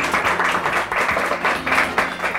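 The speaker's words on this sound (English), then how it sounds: "It's an applauding restaurant." Diners in a restaurant applaud, a dense, continuous patter of many hands clapping at close range for a few seconds.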